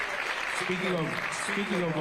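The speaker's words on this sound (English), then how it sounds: "Round of applause for sure." Audience applause at Bad Bunny's official presentation for the Super Bowl Halftime Show: a steady wash of clapping that lasts throughout, under someone speaking.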